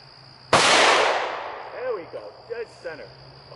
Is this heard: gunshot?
yes